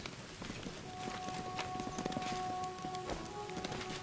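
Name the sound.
rain in Pathfinder Wrath of the Righteous video game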